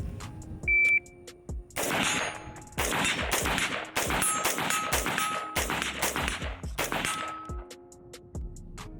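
AR-15 rifle fired on a target drill, with sharp loud shots ringing off steel targets in quick clusters, a beep starting the string and brief pauses between groups.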